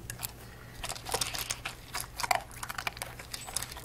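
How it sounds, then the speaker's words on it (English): Duncan the dog crunches kibble from a new bowl, a close, irregular run of small crisp bites and chews, quiet and steady over a low constant hum. "I hear actual crunching going on"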